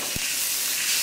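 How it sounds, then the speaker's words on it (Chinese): Chopped chili fried briefly in hot oil gives a short, steady hiss of sizzling, soft and continuous with one small knock near the start. "这剁辣椒过一下油"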